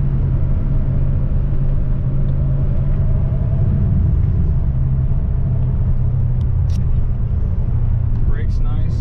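Steady low road rumble and engine drone inside a 1991 Porsche 928 sports car while driving, continuous and fairly loud throughout, with a faint rattle-like tick near the end.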